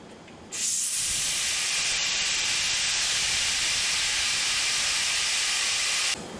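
A 300 cubic foot gas tank at about 800 psi venting through a wide-open valve, a loud, steady, close rushing hiss that starts abruptly and cuts off sharply after about six seconds.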